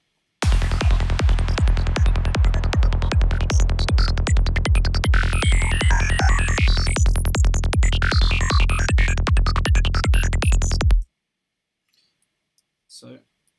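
Darkpsy FM synth lead built in Serum, with the cutoff and formant randomized on every note: a rapid, steady stream of buzzy repeated notes whose vowel-like tone keeps shifting, loud and alone for about ten seconds before stopping abruptly.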